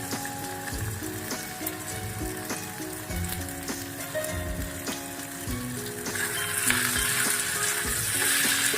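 Chopped onion and ginger frying in a pan for chilli chicken, a continuous crackling sizzle stirred with scattered clinks and scrapes, swelling louder and brighter toward the end.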